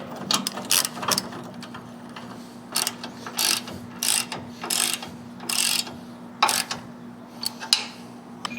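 A hand ratchet tightening a nut onto a 2-inch bolt while mounting a snowplow frame on a 2024 Ford F-350 Super Duty: repeated bursts of quick clicking strokes, close and clear, separated by short pauses over a steady low hum.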